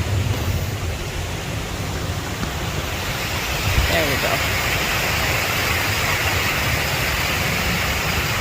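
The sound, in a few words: waterfall in the woods near Delaware Water Gap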